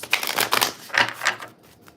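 An oracle card deck shuffled by hand, a quick run of crisp riffling flutters and slaps at close range, with no talk.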